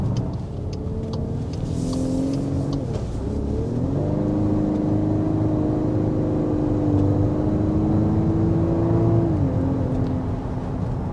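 A 2025 Volkswagen Atlas with a turbocharged four-cylinder engine pulls under partial throttle, a steady droning engine note rising in pitch, dipping briefly at a shift, then climbing again, heard from the cabin without talk.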